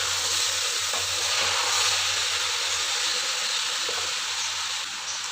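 Sliced okra, onions and tomatoes sizzle in hot oil for dhaba-style bhindi pyaz sabzi, a loud, steady frying hiss with faint stirring scrapes and no voices.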